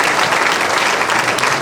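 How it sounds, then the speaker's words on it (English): Dense, loud audience applause for university officers at a fresh students' admission ceremony, a continuous wash of many hands clapping at close range. "Can you give them a round of applause as we call him now?"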